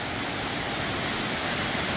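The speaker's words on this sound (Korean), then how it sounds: "이것이 바로 피아노 폭포의 모습이에요." Piano Falls, a waterfall in Tongni Gorge near Samcheok, pours as a steady broadband rush of falling water, loud and unbroken for two seconds with no voices.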